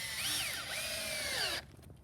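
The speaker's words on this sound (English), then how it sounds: "We're using 2-inch screws to put the 3/4 inch pickets on." A power drill drives a 2-inch screw into a 3/4-inch wooden fence picket, its motor whining and shifting pitch for about a second and a half before cutting off, close and alone.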